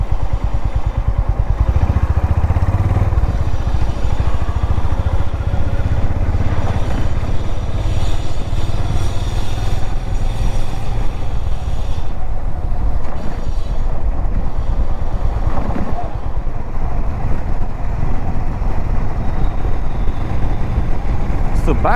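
Honda H'ness CB350 motorcycle riding on city roads after 31,000 km, a steady loud engine drone with wind rush throughout, continuous and close.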